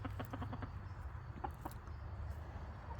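Chickens cluck softly in a coop, a faint scatter of short clucks and murmurs at a distance with quiet background hiss.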